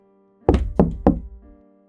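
Three firm knocks on a door, evenly spaced and close, each a sharp hollow thud with a short ringing decay, then quiet.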